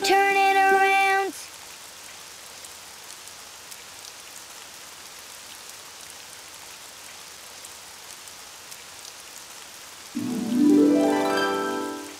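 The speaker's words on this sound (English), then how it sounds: "Oh, it's raining outside." Steady, soft hiss of falling rain fills the stretch, framed by brief tonal musical sounds at the very start and end.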